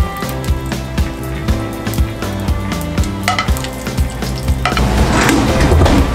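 Chorizo frying in oil in a pan, a loud, close, steady sizzle with crackling pops, plus stirring scrapes and clinks throughout, no one speaking.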